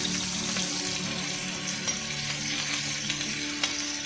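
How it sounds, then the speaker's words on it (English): Mustard seeds, cumin seeds and garlic paste sizzle and crackle steadily in hot oil in a pan or kadai, a continuous close frying hiss with small popping bursts. "Heat the oil in a pan or kadai and add mustard seeds, cumin seeds and garlic paste."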